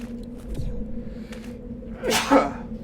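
A single sharp human sneeze bursts out near the end, loud and close, preceded by a brief intake of breath over a low steady background hum.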